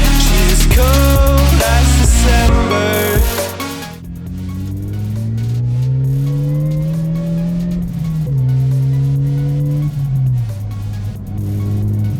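A supercharged Toyota Yaris fitted with a Blitz supercharger revs hard at first, then its engine note climbs and falls through gear changes on a B road, loud and close, with supercharger whine.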